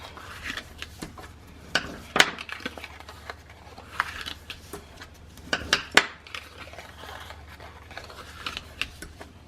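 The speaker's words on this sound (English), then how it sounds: "do a one-way fold, like prep every single score mark and burnish it down just like this" A bone folder or similar tool burnishes score folds on paper for an accordion mini album, giving soft, close rubbing and scraping strokes with a few sharper taps, quiet and without talk.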